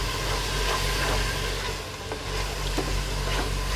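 Steady sizzling of goat trotters frying in a pan, with occasional scraping clicks of a utensil stirring, close and continuous.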